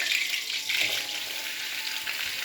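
Okra frying in hot coconut oil for a tomato curry gives a close, steady, continuous sizzle with a light crackle throughout, and no voices.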